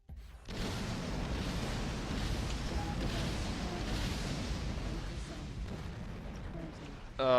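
Antimatter launchers fire in the space combat game X3AP Terran War Pack, a sustained rumbling, roaring barrage that holds steady for several seconds before a sharp louder burst at the end, with someone talking at times.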